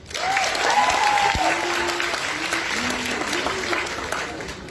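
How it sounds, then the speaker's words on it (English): Graduates at a school valedictory ceremony break into a loud, sustained round of applause, dense clapping from a crowd that holds steady for several seconds. "So let's give ourselves a round of applause."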